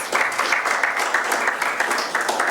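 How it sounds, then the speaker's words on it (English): An audience at a religious gathering breaks into applause, a dense steady patter of many hands clapping that carries on evenly for a couple of seconds. "give Brother Lawrence a round of applause."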